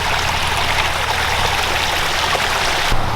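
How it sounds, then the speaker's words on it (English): The waterfall of a 10,000-gallon backyard pond flows in a constant, close splashing rush of falling water, steady throughout with no voices. "But this is pretty much how the waterfall is going to be."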